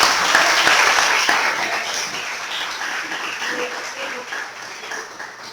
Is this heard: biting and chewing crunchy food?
no